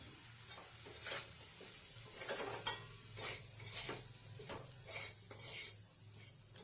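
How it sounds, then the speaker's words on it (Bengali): Semolina and vegetables are stirred and fried in a pan, giving a soft, steady sizzle broken by rhythmic scraping strokes of a spoon against the metal, fairly quiet and close. "এখন দিয়ে দেব সুজি, সুজিটাকে দিয়েও ভালো করে ভেজে নেব"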